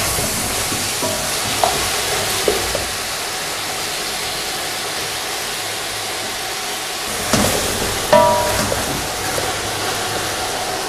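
Potatoes fry for Sindhi biryani with a loud, continuous sizzle and crackle, broken by a few sharp stirring clatters and scrapes, with no one talking.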